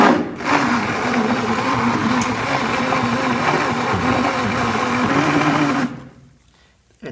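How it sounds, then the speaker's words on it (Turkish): A powerful blender motor shredding cardboard for handmade paper runs with a loud, grinding churn for about six seconds, then cuts off abruptly into near silence before a faint knock. "Motor biraz da güçlü olduğu için zaten erkenden hemen parçalamaya başladı."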